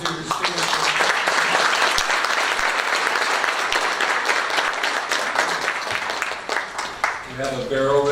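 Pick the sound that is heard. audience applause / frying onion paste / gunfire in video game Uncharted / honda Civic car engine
audience applause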